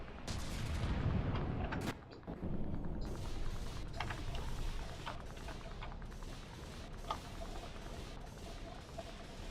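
Warship cannons fire in a naval combat game, a dense barrage of booming shots and impacts layered over a rumbling battle background, with a heavy blast near the start.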